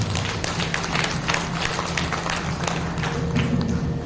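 An audience claps loudly and continuously at a Shrimad Bhagavat Katha religious discourse, a dense, sustained round of applause with no voices over it.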